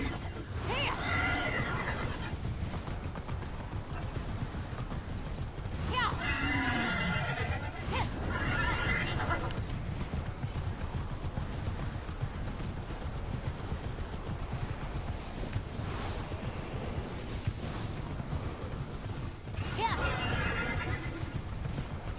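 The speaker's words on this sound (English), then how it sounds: "That's a nice horsey." A horse in Immortals Fenyx Rising trotting with steady, rhythmic hoof clops throughout, broken by several loud whinnying neighs spaced across the scene, over continuous game ambience.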